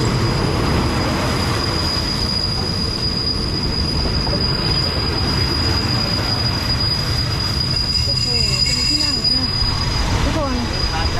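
A train arrives at a station on Thailand's southern line, rolling in loudly with long, high wheel squeals and rumbling over the rails, continuous and close, with a faint voice underneath.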